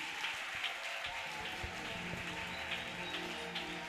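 Congregation applauding during a church service, a steady dense wash of clapping that fills the space evenly from start to finish with no voices standing out.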